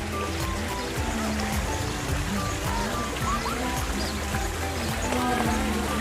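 Water splashes continuously from a waterfall feature in a botanical garden in Khon Kaen, a dense, close, steady wash of falling water with no break.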